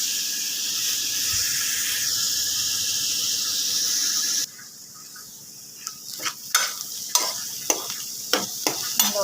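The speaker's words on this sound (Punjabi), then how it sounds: "ਤੇ ਆਪਾਂ ਤੜਕਾ ਲਗਾਵਾਂਗੇ" Steady loud sizzling of spices hitting hot oil for a tempering, with chopped ginger ready, for several seconds, then quieter frying broken by a series of sharp scraping and stirring clatters.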